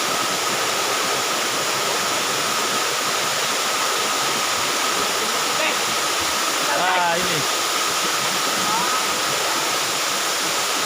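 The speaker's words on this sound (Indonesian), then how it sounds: "air terjun yang begitu deras." A loud, constant roar of a rushing 10-metre waterfall fills the scene, with a brief voice faintly heard under the torrent.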